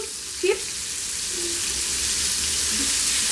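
Paneer cubes, also called cottage cheese, fry in a pan over a medium flame, giving a steady close sizzle with a brief stirring clatter near the start.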